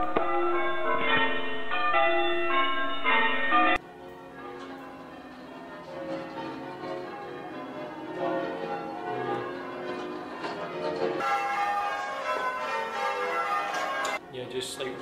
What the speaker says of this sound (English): just like ringing bells is the Christian way